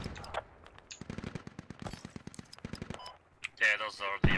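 Machine gun fire in the military shooter game Squad, with rapid bursts of close, sharp shots followed by a louder blast, while players talk over it.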